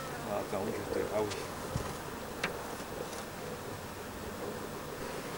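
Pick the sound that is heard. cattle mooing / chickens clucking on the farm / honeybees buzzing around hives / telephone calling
honeybees buzzing around hives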